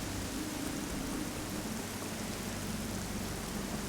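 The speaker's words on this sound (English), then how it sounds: "It's just an underground ocean with rain." Steady, dense rain hisses without a break in an underground ocean area of the Metroid Dread video game, a loud wash of noise with no talking over it.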